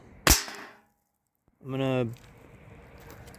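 A Salt Supply S2 launcher fires a nylon ball point blank at a tin tray, giving one sharp, loud crack. A short voiced sound follows.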